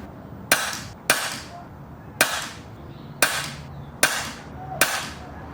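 Six sharp air gun shots firing hard lead pellets, spaced roughly evenly at close range, each a crisp crack with a short decaying tail over a quiet background.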